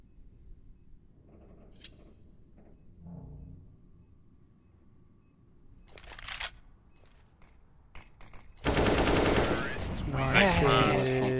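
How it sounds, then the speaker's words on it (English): CZ pistol gunfire in a video game during a bomb round on the Overpass map. Quiet game ambience and a few isolated clicks give way to a sharp volley, then a loud, sustained stretch of rapid shots close up. "CZ, man. What a gun."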